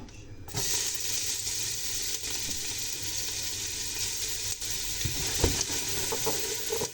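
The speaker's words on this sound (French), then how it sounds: "j'ai mis mon huile à chauffer, je vais y jeter mes oignons" Onions hit hot oil in a pan for gluten-free lasagne and sizzle loudly and steadily, with a close, continuous frying hiss and a few stirring scrapes and clunks.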